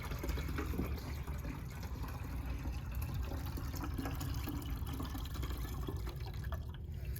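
Cinnamon drink mixture poured through a strainer, a steady soft trickle and splash of liquid running continuously at moderate distance, fairly faint and without talk.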